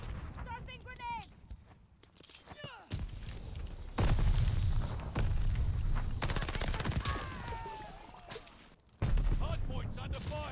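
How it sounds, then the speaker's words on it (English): Explosions and bursts of gunfire fill a Call of Duty Vanguard multiplayer match, with deep booms and rapid automatic shots that come in waves and stop abruptly. Faint game voice callouts are mixed in. "Tossing grenade."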